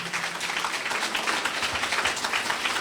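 Many worshippers at a church healing retreat clap together in praise, a sustained, even roar of hands that stays loud throughout with no pauses.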